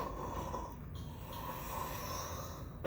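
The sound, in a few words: person imitating snoring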